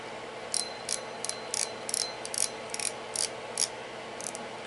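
Ugly Stik GX2 spinning reel drag letting out line in a run of sharp, rapid clicks, about a dozen bursts spaced irregularly over a few seconds against a steady low background hiss.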